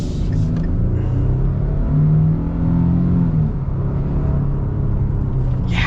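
A 2024 Nissan Frontier pickup's naturally aspirated 3.8-liter V6 pulls smoothly under acceleration, a loud steady engine drone that climbs in pitch midway, heard from inside the cab with no talking.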